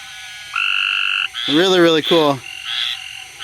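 A squirrel tree frog calls at night in South Carolina, giving loud, close, harsh raspy trills in a few bursts between steadier tonal insect or frog notes, while a person speaks briefly nearby.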